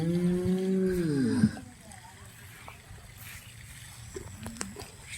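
A cow lets out a loud, drawn-out moo that falls in pitch and ends abruptly, followed by quieter farmyard background noise with a few faint knocks.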